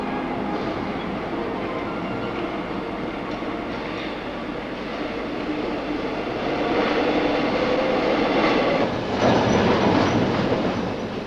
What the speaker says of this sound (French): à l'image de ce nouveau métro qui entre en gare de Créteil